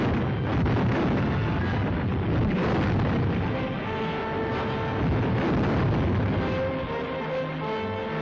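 Dense barrage of artillery fire and explosions from the 1937 Battle of Shanghai, rendered through an old newsreel soundtrack: repeated booms and rumbling blasts overlapping continuously with a narrow, muffled quality.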